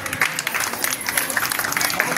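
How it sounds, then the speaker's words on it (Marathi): A crowd at a lively Marathi comedy game show claps for four women contestants. Dense, loud applause fills the scene continuously, with louder individual claps standing out and some voices mixed in beneath. "तर या 4ही महिलांसाठी जोरदार टाळ्या वाजवा"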